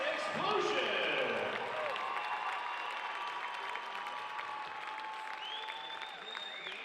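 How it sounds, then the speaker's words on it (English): An arena crowd at an indoor soccer match applauds a dance troupe, the clapping sounding distant and reverberant under a PA announcer's voice, with faint whistles and tones in the hall. "Big round of applause for Rhonda's Elite Acro and Dance Explosion."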